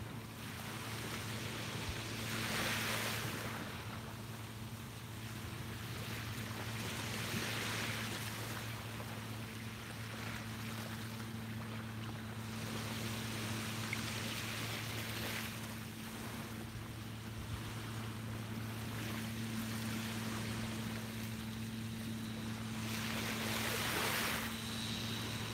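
Ocean waves wash onto a beach in slow, repeated swells, each surge rising and fading over several seconds, with a steady low rumble and light wind noise underneath and no talk.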